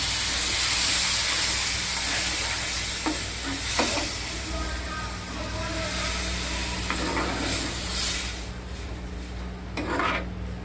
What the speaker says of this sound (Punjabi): ਸਬਜ਼ੀ 'ਚ ਦੁੱਧ ਪਾ ਦਾਂਗੇ ਇੱਕ ਗਲਾਸ ਦੁੱਧ ਦਾ ਲਿਆ